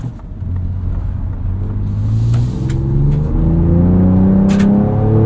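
A Ford Ranger Raptor with a 3-liter V6 accelerates through its gears, a loud, close engine drone that rises steadily in pitch with a brief dip at a shift.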